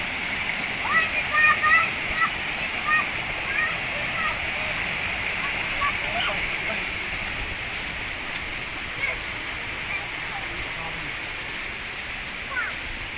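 The Karapınar waterfall near the source of the Gediz River pours in a steady broadband rush of falling water, constant and fairly close, with faint bird chirps flickering above it.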